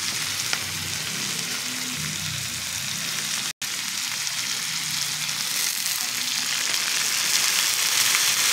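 Chicken adobo with potatoes sizzles loudly in a pan as pineapple tidbit chunks go in, with steady frying hiss and some stirring and no voices.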